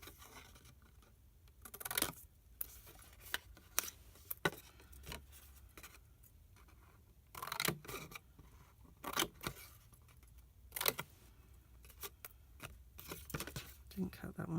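Sharp scissors snipping and notching Stampin' Up ribbon, a series of quick crisp clicks and cuts scattered with pauses, close and fairly quiet.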